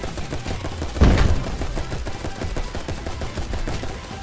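Rapid gunfire from weapons in a Roblox giant survival game, a dense rattling burst with a sharp louder impact near the start, continuous game noise throughout.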